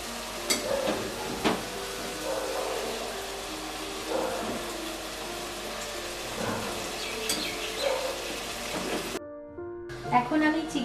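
Chicken pieces sizzle and fry in cooked spice masala for chicken dopiyaza, a steady crackling sizzle with occasional stirring clatters, breaking off abruptly near the end.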